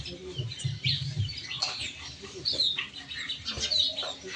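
Birds chirp and tweet in short, scattered calls close by, with a low hum and faint fowl-like clucks underneath, mostly without speech.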